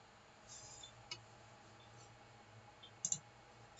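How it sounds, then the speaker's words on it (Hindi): Computer mouse clicks on a PC while editing an animated subscribe button, a few soft, sparse clicks with a sharper double click near the end, faint and close over quiet room noise. "यहाँ पे डबल क्लिक करना है"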